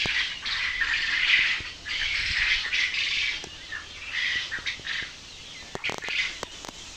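Birds with fast-growing chicks at a goat farm squawk and chatter in bursts of high, scratchy calls, fairly close, fading briefly at intervals and then resuming, with no one speaking.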